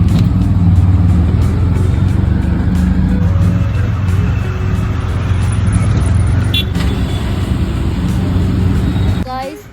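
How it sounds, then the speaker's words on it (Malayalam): Auto rickshaw ride through Bangalore traffic, a loud, steady engine drone with passing vehicles and occasional horns, ending with a sharp scraping clatter. "നമ്മൾ ഓട്ടോ വിളിച്ച് പോവാണ്"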